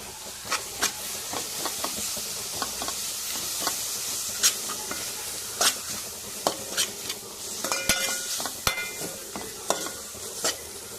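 Ginger garlic paste frying in oil for egg dum biryani, a steady close sizzle and hiss broken by frequent sharp scrapes and clinks of a spoon stirring against the pan, with no talking.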